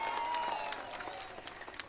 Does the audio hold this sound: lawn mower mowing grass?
no